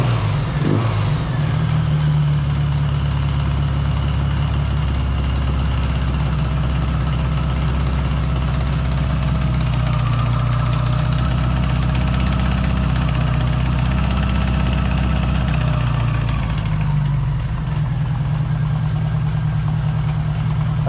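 A 1977 Honda GL1000 motorcycle engine idles steadily while warming up, a close, continuous low rumble holding an even pitch throughout, with no voices.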